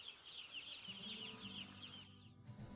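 Crowded broiler house full of chickens gives off a faint, steady chorus of clucking and chirping birds, with low murmuring fowl sounds in the background.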